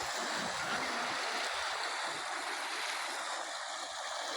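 Fast, forceful water rushes through a contour canal near the Sholayar dam in the Thirumoorthy hills, making a steady, dense roar without breaks and with no talking.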